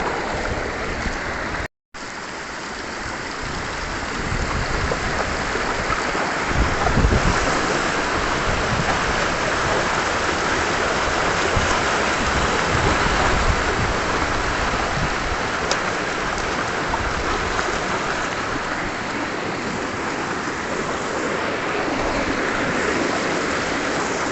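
A mountain stream flows steadily and loudly close by toward Corralmo Falls in Calanasan, Apayao, a continuous broadband roar of fast water, after a brief dropout near the start.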